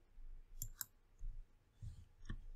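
Several quiet computer mouse clicks while working in Blender on a Minecraft animation, a double click early, then a few single clicks spaced apart against a faint low hum.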